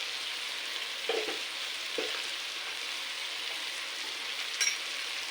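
A soft, fairly quiet sizzle of bitter gourd sautéing in oil with spices runs throughout, with a few brief scrapes of the stirring spoon.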